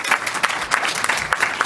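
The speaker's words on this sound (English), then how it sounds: "Let's give them a round of applause." An audience at a seller-financing expert panel event claps for the panelists in a short, fairly dense burst of applause with irregular individual claps.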